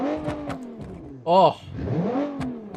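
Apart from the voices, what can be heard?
rear-engine V6 car engine revving in BeamNG video game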